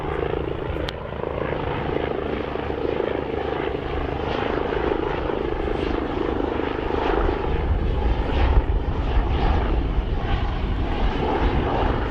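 An AgustaWestland A109 helicopter lands during a 2022 RAF Cosford air show display, its rotor and engine roar loud and steady throughout, with a dense low throb and no speech.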